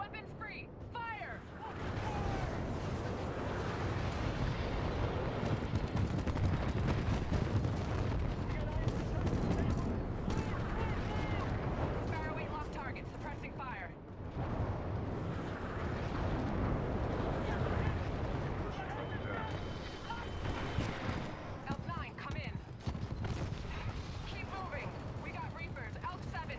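Gunfire and explosions from the video game Titanfall 2, loud dense bursts of shots and booms in two sustained waves with a brief lull between.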